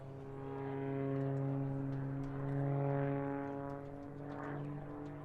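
An Extreme Air XA41 aerobatic plane performing at an air show, its propeller engine droning steadily with a buzzing, rising and falling tone at a moderate distance.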